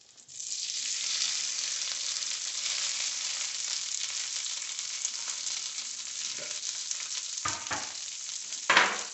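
Cut potatoes for home fries sizzle steadily in hot oil, a dense close hiss that starts abruptly and holds, with a few scraping stirs and clunks of a utensil near the end and no speech.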